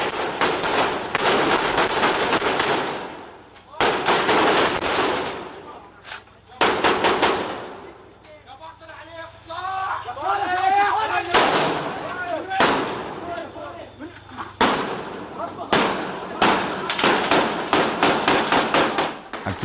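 Gunfire from an armed street clash in news footage: repeated sharp shots and bursts recur across the clip, loud and near, with pauses between volleys and a voice speaking in between.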